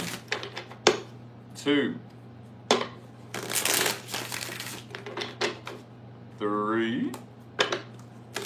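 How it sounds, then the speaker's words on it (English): Tarot cards are shuffled close by in several crisp bursts, with pauses between them. Someone talks and counts aloud between the shuffles. "Let's get 5 shuffles."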